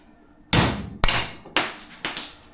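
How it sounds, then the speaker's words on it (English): A hammer strikes an aluminum punch on a vehicle transfer case four times in steady rhythm, each blow a sharp, close, ringing metallic whack with no talking. "Use that punch, aluminum punch."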